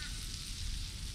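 Butter sizzles in a frying pan, a steady close hiss with faint crackle throughout the short moment.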